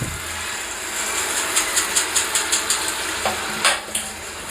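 Soaked flattened rice (poha) goes into a pan of cooked tomatoes and is stirred, a soft sizzle under a run of regular light scraping strokes with one firmer clatter.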